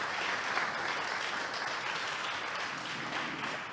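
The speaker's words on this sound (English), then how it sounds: "Maybe we should just give everyone a round of applause." Conference audience at a ZK Hack event in Montréal giving a round of applause, dense steady clapping from many hands sustained for nearly four seconds at moderate distance.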